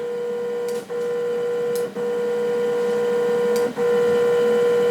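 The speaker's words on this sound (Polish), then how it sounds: "Jedna oś jest wybazowana, ale jak widzicie druga oś nadal pracuje." Stepper axis motors on a LinuxCNC gantry with two motors and two limit switches hum steadily during homing, a tonal whine with a few brief dips as the axes reverse off the switches, close and alone.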